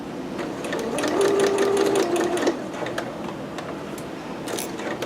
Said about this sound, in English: I'm going to sew straight until the very center of the seam, and I'm not going to turn for the next section